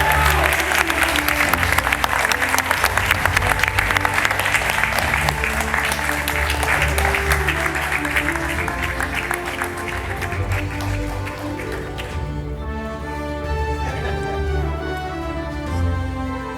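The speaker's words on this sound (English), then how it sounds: "Can you give a huge round of applause for Rowan, please?" A festival crowd gives loud, sustained applause for a guest over a steady musical backdrop. The dense clapping eases off after about twelve seconds, leaving the music to carry on.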